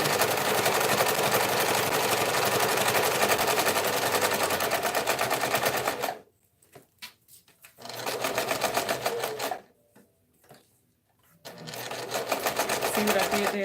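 A sewing machine stitches a tote bag in long, fast, even runs, stopping twice for a pivot before starting again, close and loud.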